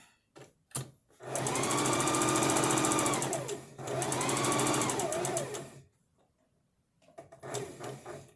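A home sewing machine stitching group shapes: two long, loud whirring runs of rapid needle strokes, close by, with a short pause between them as the fabric is pivoted at a corner, then a few quieter clicks and a brief burst.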